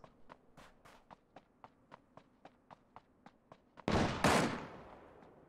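Gunfire in Ring of Elysium: a steady run of evenly spaced sharp shots, about a dozen in quick rhythm, then a louder burst of blasting noise that fades out.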